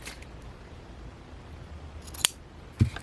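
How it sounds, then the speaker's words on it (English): Pinking shears cut through paper for a junk journal craft, giving two quick, crisp snips close by over a quiet background. "So I might just do this with some pinking shears."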